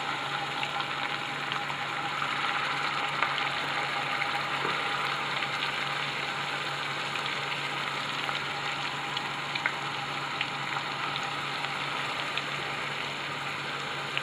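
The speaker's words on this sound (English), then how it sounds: "I'm going to drop these pieces in and start to cook a little bit." Battered halibut pieces fry in hot oil, giving a steady, dense sizzle that holds at an even level throughout.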